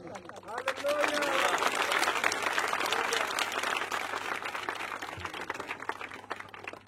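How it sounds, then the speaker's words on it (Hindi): Applause from a small group at a Hindi-speaking religious gathering, dense steady clapping that fills the whole stretch, with a low hum beneath and some voices mixed in. "बस इन्हीं की ताली"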